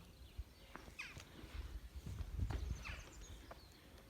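A horse moves about on the ground during groundwork training, its hoof steps landing in an uneven, shuffling rhythm over about four seconds at moderate distance, with faint birdsong and no talking.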